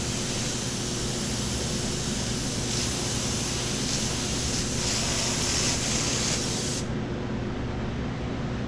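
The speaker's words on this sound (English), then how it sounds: "Very, very lightly airbrushing just a few little registration spots." An airbrush sprays paint onto paper in a continuous, close hiss that runs steadily and then cuts back sharply near the end, with no voices.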